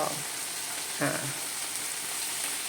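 Soy protein marinated with garlic, pepper, seasoning sauce and dark soy sauce frying in hot oil, giving a steady soft sizzle with a brief louder crackle partway through.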